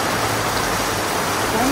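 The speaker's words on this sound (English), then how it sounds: "Gosh, I think the rain's been saving itself up." Loud, steady downpour of heavy rain in Limoges, France, a continuous hiss with a faint voice briefly audible near the end.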